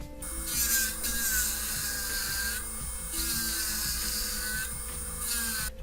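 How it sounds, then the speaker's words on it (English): A handheld rotary grinding tool grinds indents into a plastic 1/170 Macross VF-1A Valkyrie model kit part, a high whining buzz in four on-off bursts with gritty scraping underneath, close and steady, without talk. "so I can use my grinding tool to grind out the indents"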